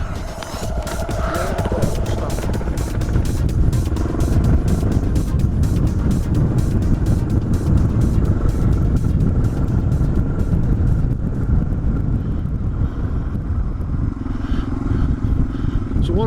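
A Suzuki DR650 motorbike engine runs under gentle throttle on a desert road, a steady close rumble mixed with wind buffeting that carries on throughout.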